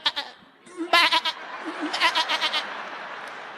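A person imitates a sheep with a series of quavering, nasal bleats, several short wobbly cries in quick succession, close and fairly quiet, during a comedy stage monologue.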